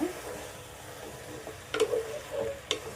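Pieces of mutton bone meat get stirred in a cooking pan, a soft frying sizzle under a few scraping, clinking strokes of a utensil, close and fairly quiet.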